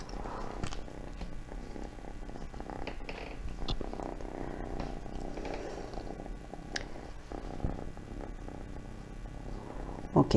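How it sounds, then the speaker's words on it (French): A domestic cat purrs right beside the microphone indoors, a soft continuous rumble with occasional small rustles and bumps, and no one speaking. "J'espère que vous n'allez pas trop l'entendre ronronner dans le micro."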